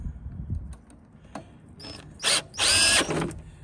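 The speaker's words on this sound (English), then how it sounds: "If I can get this tight with the drill," A power drill tightening carburetor bolts on a Troy-Bilt 875 EXi engine whirs in short bursts, the last one longer and louder, with faint clicks and handling noise between.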